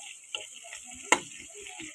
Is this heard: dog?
no